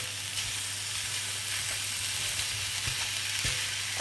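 Ground meat fries in a pan for stuffed aubergines, a steady moderate sizzle broken by a few soft clicks and scrapes of stirring, with no voices.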